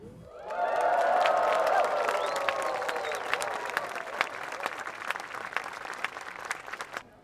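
A festival crowd at Bingsjöstämman, the 50th-anniversary 2019 folk music gathering, breaks into loud cheering and whistling that settles into sustained clapping, thinning gradually toward the end, with a voice briefly audible at the start.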